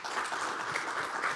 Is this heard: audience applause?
yes